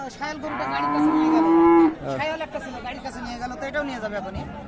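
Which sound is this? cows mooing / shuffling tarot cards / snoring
cows mooing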